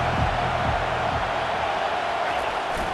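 A stadium crowd in the College Football 25 video game fills the scene with a steady, dense roar at an Ole Miss home game, constant and loud with no breaks.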